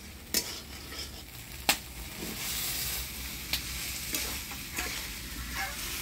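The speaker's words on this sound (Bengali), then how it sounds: "এবার ভাজা রাখা আলু দিয়ে দেব।" Fried potatoes tossed into a sizzling spice masala in a pan, a continuous hiss with a few sharp spatula scrapes and clacks spaced across it, close and fairly quiet.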